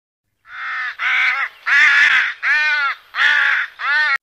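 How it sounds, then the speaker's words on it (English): A crow caws six times in a steady, evenly spaced series of loud, harsh calls, each clear and close against silence. "A crow is a common wintering bird."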